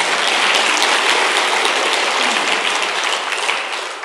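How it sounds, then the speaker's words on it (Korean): An audience at a political talk breaks into dense, steady applause that stays loud for the whole stretch and eases off only slightly near the end, with no voices over it. "이때는 박수도 한번 보내주지 않나?"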